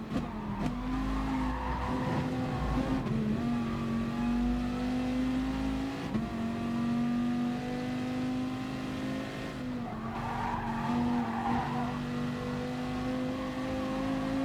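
A race car engine in Gran Turismo Sport on the Nordschleife holds a high steady whine that dips and rises through gear changes, with brief tire squeal and skidding, and no voice over it.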